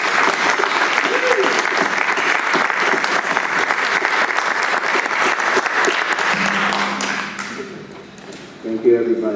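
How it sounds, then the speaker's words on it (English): Applause fills a board meeting room after a vote on stadium naming, steady dense clapping from a small group for several seconds, thinning and fading out near the end, with a brief voice after it. "I think applause are in order for both namings."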